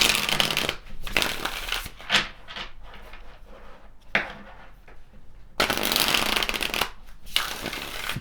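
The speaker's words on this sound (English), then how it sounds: "Pull some additional tarot cards to see what else we have." Tarot cards are shuffled close up in several bursts of riffling and sliding, separated by short pauses and softer handling sounds.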